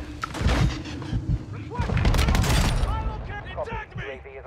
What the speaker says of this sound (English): I'm just gonna pistol shot.